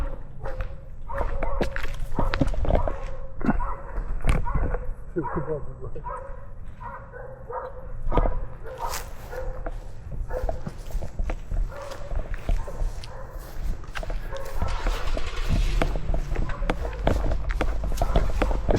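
Dogs bark wildly at a bear outside a colonel's home, with a rough stream of repeated, overlapping barks and scuffling steps close by, mixed with excited human voices throughout.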